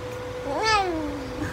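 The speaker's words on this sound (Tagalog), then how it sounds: "Yung pusa, baby." A single cat meow, rising then falling, fairly close and moderately loud, heard alone over a soft background hum with no talking.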